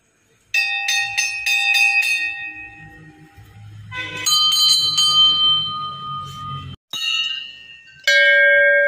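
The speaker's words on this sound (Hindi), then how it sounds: "बहुत अच्छा लगता है मुझे घंटी बजाना, इसकी साउंड बहुत ही ज्यादा मतलब मेलोडियस लगती है मुझे।" A small temple bell is struck repeatedly in quick bursts, bright and ringing, with pauses between rounds and some background rustle, at a mountain shrine.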